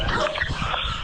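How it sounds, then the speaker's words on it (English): A dog at an outdoor yard sale gives short, close barks and whimpering yips in a brief, dense burst. "There's a lot of dogs out here."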